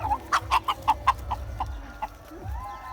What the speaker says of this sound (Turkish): Tavukların buradan evine gir.